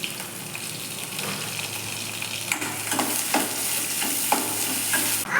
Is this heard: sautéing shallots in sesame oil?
yes